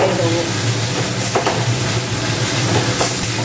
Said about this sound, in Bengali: এবারে এই মশলাটাকে আমি একটু কষিয়ে নেবো।